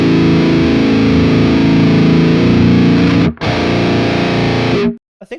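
Distorted heavy guitar played through a Quad Cortex with a pitch shifter tuned down, a thick, loud, sustained chugging wall of sound that cuts out briefly, resumes, then stops abruptly near the end.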